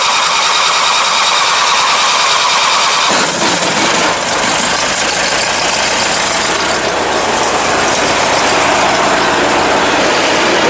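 A Briggs & Stratton 20hp opposed twin engine on a 2001 Murray garden tractor sputters, catches and then runs loud and close with a rough, steady chugging idle.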